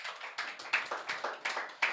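A church congregation claps for Jesus, about a dozen evenly spaced claps in quick steady rhythm over two seconds, moderately loud in a reverberant hall.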